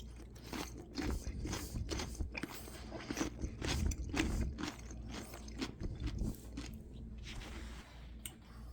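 Loud, intimate chewing of a crunchy homemade dill pickle, steady crackly bites and squishy mastication close to the microphone, slowing toward the end.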